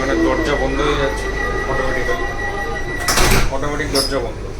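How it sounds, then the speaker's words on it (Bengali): Automatic doors sliding shut on a Vande Bharat Express train stopped at Bhubaneswar station, a brief mechanical whoosh and thud over steady onboard hum while someone talks. "এখানে দরজা বন্ধ হয়ে যাচ্ছে"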